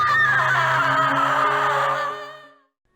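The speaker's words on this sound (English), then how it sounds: "and as we do we hear Stephanie screaming" A woman screams in the Harvester video game, one long sustained high-pitched cry that holds steady and then fades out near the end, loud and alone with no talking.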